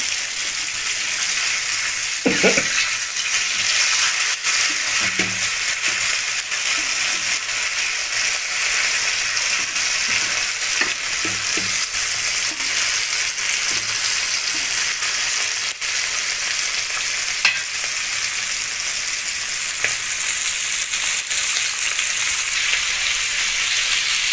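Malvani-style bangda mackerel fillets fry in a pan, a loud, continuous hissing sizzle filling the whole stretch with a few faint clinks and scrapes, and no voices.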